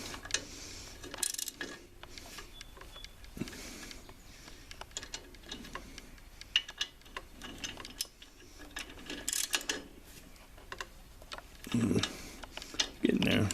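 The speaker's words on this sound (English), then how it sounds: "Try to get the head tightened down as evenly as possible." Ratchet wrench tightening cylinder head bolts on a lawn tractor engine, irregular bursts of quick clicking spread across the clip at close range, with speech heard at times.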